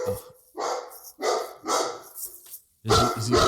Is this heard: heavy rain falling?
no